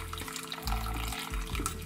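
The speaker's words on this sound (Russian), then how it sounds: "Теперь сливаем воду, которая получилась у нас при варке кукурузы." Cooking water from boiled corn is poured off, a close gurgling, splashing stream of liquid that swells and surges twice, with no voices.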